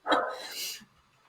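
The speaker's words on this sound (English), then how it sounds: "So if you hear a dog barking, that's my dog." A single close dog bark, sharp and short, trailing into a brief whine.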